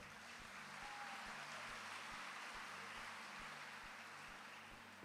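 A church congregation applauds at a Catholic congress sermon, a dense, steady wash of clapping that holds at an even level throughout, with faint low thumps repeating underneath.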